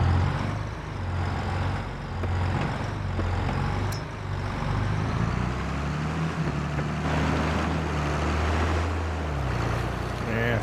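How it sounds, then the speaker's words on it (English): John Deere 4755 tractor engine in Farming Simulator 22, a low steady diesel drone with shifting pitch as it revs and idles, close and continuous across the whole stretch. "Let's get the John Deere 4755."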